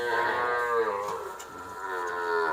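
Fattening cattle at the Wang Prachop livestock market in Tak moo in long, drawn-out calls that overlap almost continuously, moderately close, with a short dip midway before another bellow.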